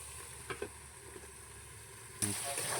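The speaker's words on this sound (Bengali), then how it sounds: "এরপরে ঢাকা দিয়ে দিয়ে নাড়তে হবে যতক্ষণ পর্যন্ত না কষে যাচ্ছে।" Chicken masala frying in a pan and stirred, a steady sizzle with a couple of spatula scrapes, then a louder burst of hissing near the end.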